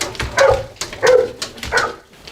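A six-month-old dog gives three short, loud barks close by, evenly spaced with brief gaps between them.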